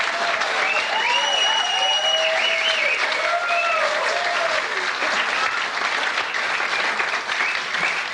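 Studio audience at a television talk show applauding a comedian's arrival, continuous loud clapping throughout with a few cheers and whoops rising over it near the start.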